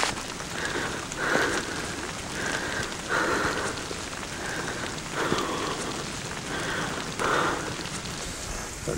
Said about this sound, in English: It's a nice warm rain, so even if we do get a little bit wet,